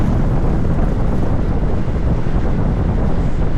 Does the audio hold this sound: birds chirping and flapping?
no